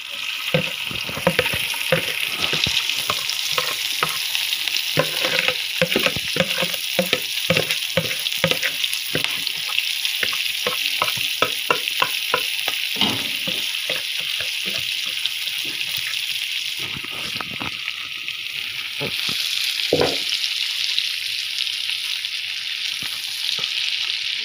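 Onions fry in hot oil in a pan after small pond puti fish, giving a steady, close sizzle with scattered stirring clicks and scrapes throughout.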